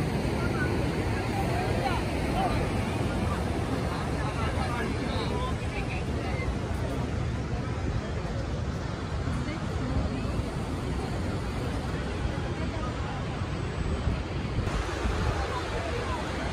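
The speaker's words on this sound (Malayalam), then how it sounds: "ഒന്ന് കാറ്റടിക്കുന്നുണ്ട്, സൺസെറ്റിന്റെ സമയത്താന്ന് തോന്നുന്നു" Strong wind blows across the seashore at sunset, a constant loud rushing with surf and gusty buffeting on the microphone throughout, no clear talk.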